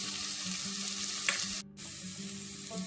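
Ginger garlic paste sizzles and spits in hot oil with onion for pulav rice, a steady close frying hiss with a brief break partway through.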